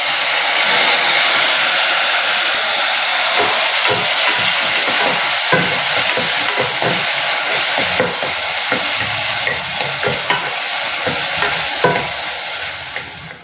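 A large chopped tomato sautés in a pan for North Indian pav bhaji, giving a steady, close sizzle with frequent scraping stirs throughout and no talking.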